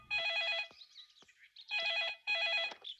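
An old-style telephone rings in a Hindi-dubbed South Indian action film, three trilling electronic bursts with quieter gaps of faint background noise between them.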